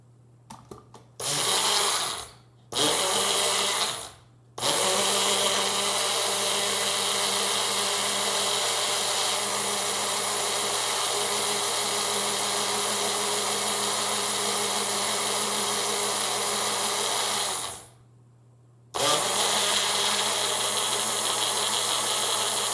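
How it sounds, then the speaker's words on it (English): Magic Bullet blender whirring loudly and steadily while mixing liposomal vitamin C, starting in short bursts then running continuously with a brief pause near the end, close and alone. "the magic bullet has the ability to jump around a little bit when it's mixing"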